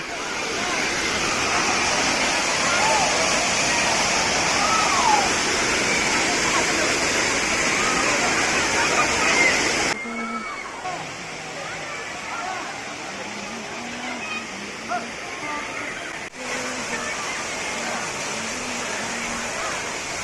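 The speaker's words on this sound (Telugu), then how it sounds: "సో వాటర్ ఫాల్ అయితే చాలా బాగా వచ్చింది" The Kotthapalli waterfall roars with a constant rushing wash of falling water and splashing that fills the whole stretch, while people talk and students play in the background.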